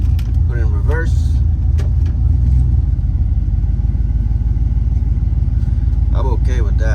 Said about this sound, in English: Comes back down to idle pretty good.